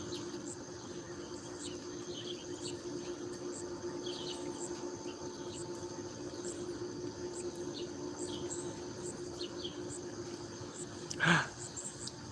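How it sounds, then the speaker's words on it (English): The first cicada of the year buzzes outdoors at sunset as a faint, steady high drone, joined by soft intermittent chirps and a single brief knock near the end. "I have heard the first cicada of the year."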